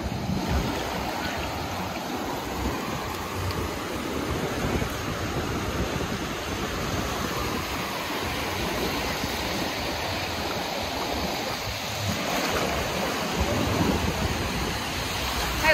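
Ocean surf rolling onto the beach at Myrtle Beach, a continuous broad wash of breaking waves, steady and fairly loud with slight swells, no voices.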